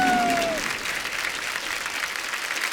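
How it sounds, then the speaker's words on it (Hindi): Studio audience at a comedy talk show breaks into applause, a broad crowd clapping that starts loud and settles into a steady wash, with a brief tone fading out at the start. "बस एक बार जोरदार तालियां अक्षय पाजी और कैटरीना कैफ के लिए।"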